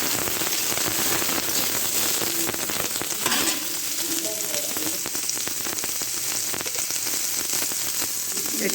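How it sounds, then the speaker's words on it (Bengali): Soy chunks frying in a pan of hot oil, a dense, steady crackling sizzle that stays loud and close throughout. "সয়াবিন বড়িগুলো আমি ভেজে নেব।"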